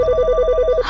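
A telephone rings with a quick electronic trill, a rapid warbling burst of tones lasting under a second, fairly loud and close.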